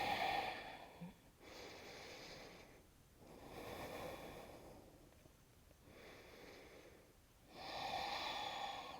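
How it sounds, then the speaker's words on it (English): Slow, deep breaths in a yoga flow, each long airy exhale and inhale rising and fading in a steady rhythm, close and soft with no speech. "Exhale to twist."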